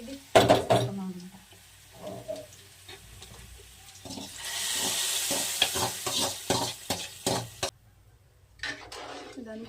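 Fish curry ingredients with fried onions are stirred in hot oil in a pan, using a snakehead fish called korameenu. Steady sizzling comes with repeated scraping stirs and clinks, loud and close, while someone talks in between.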